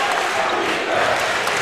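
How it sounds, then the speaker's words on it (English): Roaring crowd at a college basketball game between Pensacola Christian College and Bob Jones University, a loud, dense wall of cheering throughout the short clip. "obviously you can hear the crowd already through the roof electricity right now"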